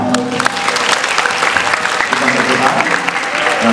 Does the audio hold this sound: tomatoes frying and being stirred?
no